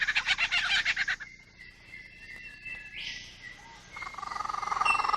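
A male lyrebird runs through imitations of other birds' calls: a loud burst of rapid repeated notes, then quieter whistled and chattering phrases, ending in another rising, rhythmic volley of calls.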